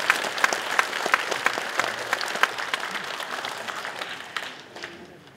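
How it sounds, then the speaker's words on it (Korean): A lecture audience at a character academy in Yeongju breaks into dense, lively clapping that gradually tapers off and dies away near the end. "여러분 제 말 믿으면 박수를 한번 하십시오"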